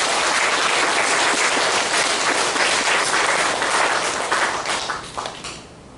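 Warm applause from a church congregation at a Sunday worship service, dense steady clapping from many hands that carries on for several seconds, then thins and fades out toward the end.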